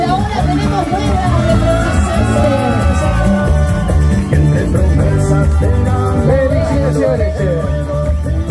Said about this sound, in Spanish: las felicitaciones, el público aplaude.